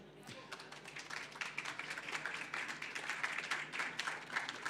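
Audience applause at a regional business event in Centre-Val de Loire for four guest speakers, a fairly quiet but steady wash of many hands clapping that swells slightly over several seconds.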